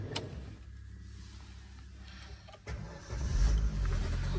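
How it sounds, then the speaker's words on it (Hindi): A car engine starts up and then settles into a low, steady idle nearby, with a quiet background before the motor catches. "तो दोस्तों गाड़ी भी कर दिया स्टार्ट"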